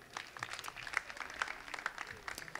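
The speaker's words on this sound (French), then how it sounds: "applaudissez très fort pour vous" An audience at a stand-up comedy festival applauds, a moderately loud patter of many hands clapping with an uneven, fluttering rhythm.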